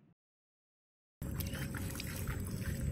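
Steady rushing water begins abruptly after a short silence, a loud continuous flow that carries on without a break.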